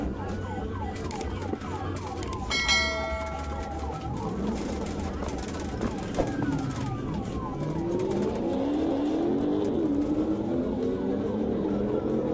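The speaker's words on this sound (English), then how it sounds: "Car continued to flee." Car fleeing police at high speed with emergency sirens wailing, rising and falling siren tones over a roaring engine and road noise, with a voice speaking over it.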